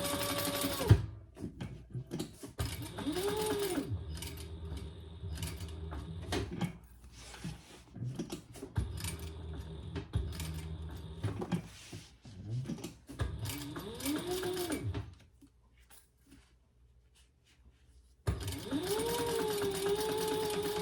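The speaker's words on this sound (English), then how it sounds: "turn that over and sew down each side, flattening your seam" A sewing machine stitches down each side of a fabric bag in several steady runs separated by short pauses, close and fairly loud, with a quiet stretch near the end before the machine starts up again.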